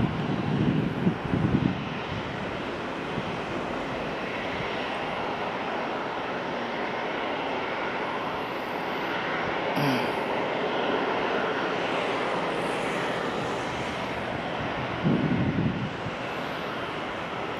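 Ryanair jet engines roar loud and steady at Madeira Island Airport. The sustained rumble carries gusty wind buffeting and swells slightly at the start and near the end.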